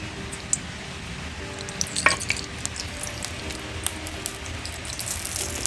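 Oil sizzles in a hot kadai while a curry of dried fish and drumsticks is being made, a steady close hiss with small crackling pops and no talking.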